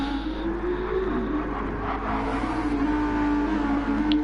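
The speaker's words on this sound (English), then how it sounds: "Great sound also by both cars. The Audi, of course, was one of the most iconic V10 engine sounds of all time." Audi V10 and McLaren race cars in a Nürburgring GP endurance racing game lobby, engines droning steadily and continuously at mid distance, a sustained harmonic whine with no voices.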